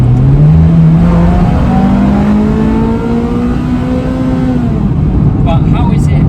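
A Ferrari 355 F1 GTS engine cruising at about 50–60 mph, a loud steady drone with a gently rising and falling tone, heard close from inside the car with no talk.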